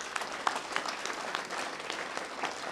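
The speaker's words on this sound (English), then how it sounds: "Merci pour les applaudissements." Audience applause at the 2019 summer festivities in Sagato Soane, a steady spatter of many hands clapping at moderate distance, filling the short stretch without voices.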